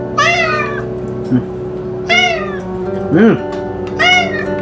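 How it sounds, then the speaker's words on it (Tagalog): A cat meows several times in long, drawn-out, insistent cries, loud and close, with a person speaking briefly between the calls. "Ingay. Pusa."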